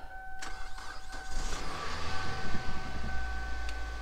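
A 2009 Kia Sportage engine cranks with a few clicks and whirs, then catches and settles into a low, rumbling idle, heard up close.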